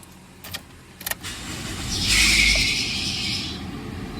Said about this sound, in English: I'm about to start the Corolla now